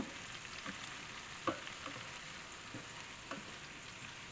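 Swiss chard sautés in a pan with a quiet, continuous sizzle. A few soft clicks of stirring break through, including one sharper tap partway in.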